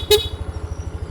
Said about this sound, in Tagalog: Busina button.